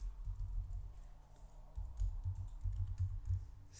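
Computer keyboard keys clicking in quick bursts as a folder name is typed while editing an image link, close and fairly loud, with brief pauses between runs of keystrokes.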